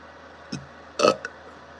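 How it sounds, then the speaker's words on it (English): A man wearing a beer helmet lets out a short close burp with a small hiccup-like catch before it and a brief tail after. "I got a burp that's stuck"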